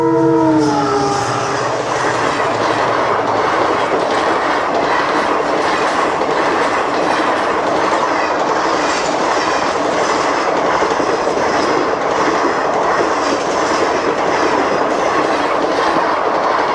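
A train rumbles loudly and continuously through a railway level crossing on a highway, opening with a short horn blast, followed by sustained rolling wheel clatter and rail noise that stays close and heavy throughout.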